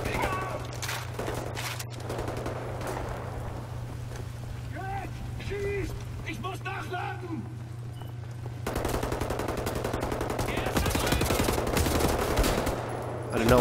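Enemy gunfire in the shooter game Wolfenstein: The New Order, a dense rattling barrage that runs steadily throughout and swells louder near the end, mixed with game sound effects and a constant low hum.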